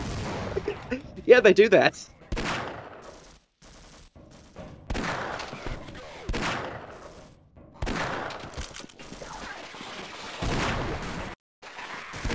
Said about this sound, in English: magnum shot will kill the Vortigaunts and the Marines